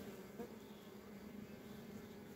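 Honey bees buzzing around a beehive frame, a steady low, close droning hum that stays even throughout with no talking.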